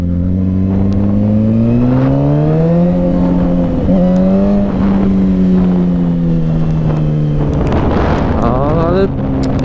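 A Suzuki GSX-R sport motorcycle engine runs loud and close, its pitch rising and falling as it revs, with wind buffeting the microphone and a voice over it.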